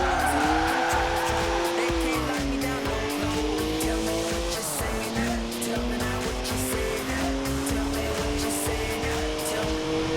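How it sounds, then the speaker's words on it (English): A 3-litre twin-turbo straight-six car with 335 horsepower drifts sideways in Forza Horizon 4, its engine droning steadily under continuous, loud tire squeal, with pitch shifts as the throttle changes. "3-litre straight six, 335 horsepower, 2 turbos, as much sideways action as you like."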